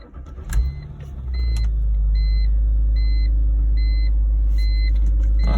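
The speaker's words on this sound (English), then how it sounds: "So take it for a test drive and keep our fingers crossed." A BMW 325xi E46 with a rough-running fault sets off on a test drive, its low engine rumble building and holding steady, with repeated electronic chimes beeping over the top.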